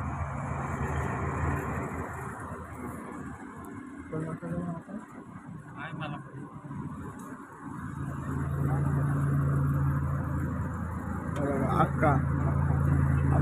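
Traffic at the Khalapur toll plaza on the Mumbai-Pune expressway: cars and heavier vehicles idle and pass with a steady engine rumble that swells later, while someone talks over it throughout.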